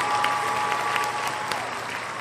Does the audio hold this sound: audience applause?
yes